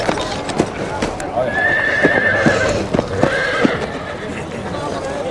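Horses exported from Iceland for use as draft animals on Danish farms whinny repeatedly, and clip-clopping hooves sound throughout close by. A narrator's voice runs over the animal sounds.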